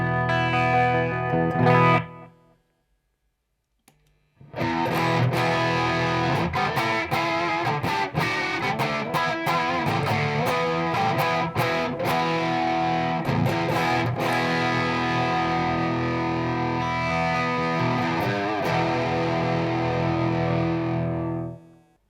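Super strat electric guitar with high-output humbuckers played through a clean amp setting, strummed chords and picked notes ringing continuously after a brief pause, loud and close with no talking.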